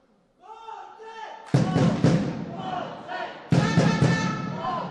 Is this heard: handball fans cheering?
yes